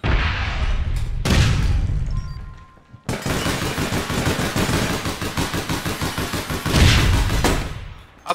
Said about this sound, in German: Vorsicht, Granate.